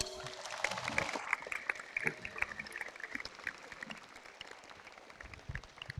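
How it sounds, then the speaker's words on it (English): An audience at the opening ceremony of a pencak silat championship claps in a loose, faint patter of scattered hand claps that thins out over several seconds, heard from some distance. "You can clap if you like."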